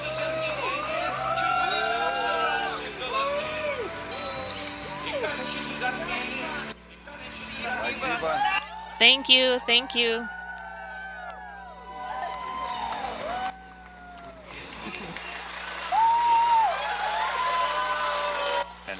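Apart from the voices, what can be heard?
crowd of well-wishers cheering crew boarding bus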